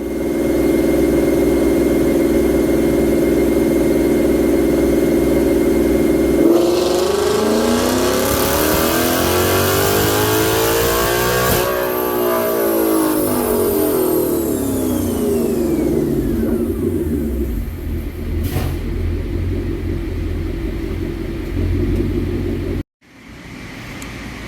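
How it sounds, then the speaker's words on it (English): 2024 Ford Mustang GT with a Corsa Xtreme cat-back exhaust on a dyno: loud, steady engine roar climbs through a full-throttle pull, then the revs sweep back down and the clip ends in an abrupt cutoff, with no voices. "we just made a dyno pull after installing the Corsa Xtreme cap back on this 24 Mustang GT of ours"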